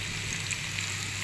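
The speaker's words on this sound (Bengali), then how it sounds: "এটা এখন বাগার দিব" Spices tempering in hot oil for kochur mukhi dal, a steady soft sizzle and crackle heard faintly and alone.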